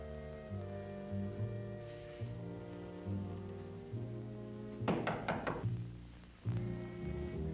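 Several sharp knocks on a door land in a quick cluster just before a single heavier thud, all set against steady music that runs throughout.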